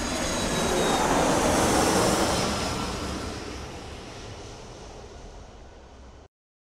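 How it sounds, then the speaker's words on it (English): An airplane roars overhead, a broad whooshing engine drone that builds to a peak and then slowly fades into the distance before cutting off. "Sound produced by aircraft engines."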